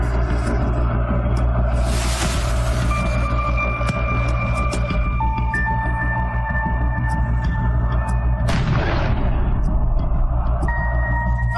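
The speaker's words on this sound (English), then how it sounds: "fans lobbing flares and fireworks into the sky" Stadium crowd of football fans in a dense, continuous roar as flares and fireworks go off, with steady low rumble throughout, sustained whistling tones, and bright crackling bursts rising near the start and again later.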